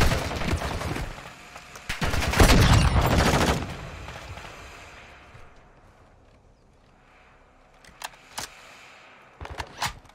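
Dense bursts of gunfire in Call of Duty DMZ, loud and close, rattling for the first four seconds, then fading into quiet with a few sharp single shots near the end.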